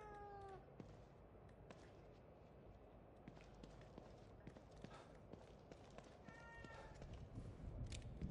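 A cat meows briefly at the start and again later with a longer, rising cry, over a low rumbling background dotted with soft taps and footstep-like clicks.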